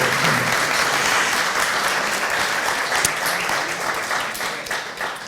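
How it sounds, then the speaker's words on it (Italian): Sustained applause from an audience at an Italian literary gathering, a broad wash of clapping at moderate level that slowly eases toward the end. "questa volta l'applauso ci vuole."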